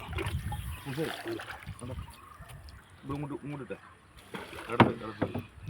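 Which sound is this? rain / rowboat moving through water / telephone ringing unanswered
rowboat moving through water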